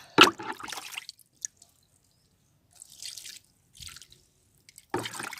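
Liquid fertilizer made from sapota fruit is poured onto plants in a few short splashing bursts, separated by quiet gaps, close up.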